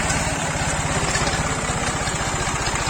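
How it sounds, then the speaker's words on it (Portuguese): A small tractor engine idling on a farm, a close, steady low throbbing chug with rapid regular pulses and no pauses. "Olha lá o tratorzinho aí, ó."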